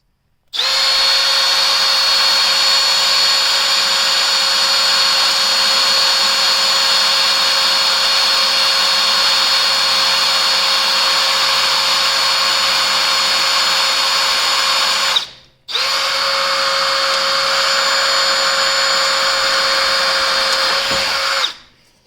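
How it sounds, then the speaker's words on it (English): A power drill with a 9/32 bit whines loudly and steadily for a long stretch while drilling a pilot hole during RV light installation, stops briefly, then spins up again for several more seconds, close and constant. "I'm going to drill my pilot hole with my 9/32"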